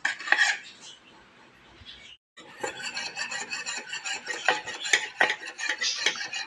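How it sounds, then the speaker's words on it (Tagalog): Kutsinta batter with vanilla and orange food coloring is stirred in a bowl, giving close, repeated scraping and clinking strokes with a brief gap partway through. No voices are heard. "Haluin laan po natin mabuti."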